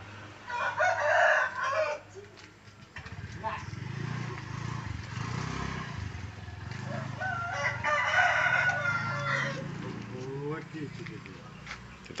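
A hen crowing like a rooster, two drawn-out crows a few seconds apart, moderately close, with someone talking between and over them and a low engine hum in the background.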